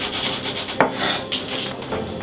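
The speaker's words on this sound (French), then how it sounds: "Échalotes comme ça, le bol comme ça, couteau rouge bien sûr, et on cisèle." A red knife finely chopping shallots by hand on a board, quick close scraping and cutting strokes with one sharper knock, steady and unaccompanied by talk.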